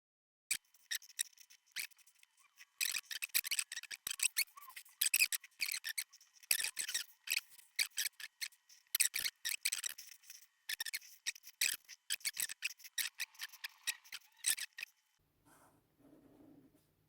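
Super fast drawing of a superhero on paper, rapid scratchy pen or marker strokes in quick bursts that stop near the end, close and quiet with no speech.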